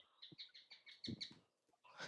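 A pet bird chirps in a quick run of bright, repeated tweets, then falls briefly quiet before a final burst of chirping, fairly close and without any talking over it.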